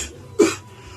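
A single short, sharp cough from a person bursts out once, close but moderately quiet, against a faint background.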